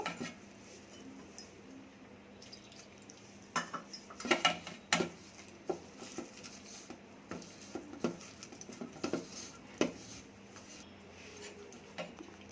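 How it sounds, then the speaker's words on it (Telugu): Cabbage pakoda batter of flour and a little water being mixed by hand in a bowl, giving soft, irregular taps and clinks against the dish that come in quiet bursts and grow busier toward the middle. "ఈ మాదిరి కలుపుకోవాలి పిండి."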